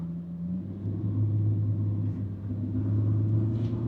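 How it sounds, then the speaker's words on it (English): Car engine with a GM 4T65E transmission revved gently while stopped with the brake held, a low steady rumble that rises slightly, fairly quiet and close. "Just rev it up a little bit."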